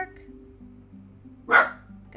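Dog giving a single short bark, moderately loud, over a quiet background of low steady tones.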